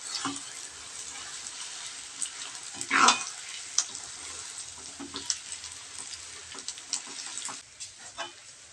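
Biko sticky rice cake mixture being stirred in a pan, a soft continuous scraping and bubbling sizzle with one louder scrape in the middle, close and moderately quiet.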